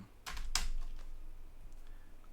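Computer keyboard typing while coding an Android app, a couple of sharp close keystrokes followed by a few softer, sparse taps in a quiet room.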